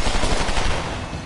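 Rapid automatic gunfire in the video game Homefront, a dense loud burst of shots fired close up for a little over a second.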